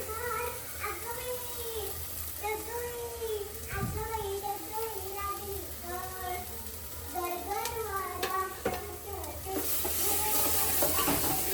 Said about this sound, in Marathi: हा चिकन मसाला चांगलं परतून घ्यायचं